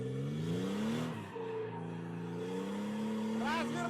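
A car at a drift lesson practising figure eights and snakes accelerates under throttle, the engine note climbing and wavering through the revs, with a brief tire squeal near the end, all fairly faint.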